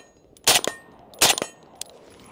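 Two sharp gunshots from a Scar 16 SBR rifle, each with a quick echoing tail, spaced under a second apart, then a fainter third click or report; loud and close, with no talk.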